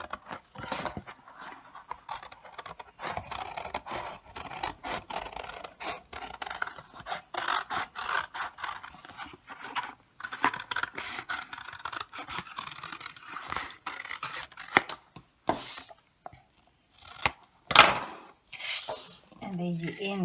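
Scissors snip through paper or craft material while a round shape is trimmed out, a steady run of close, soft crisp cuts with a few sharper snips near the end.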